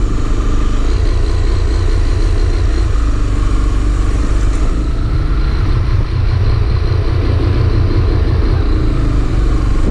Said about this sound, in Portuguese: a moto fica dando tranco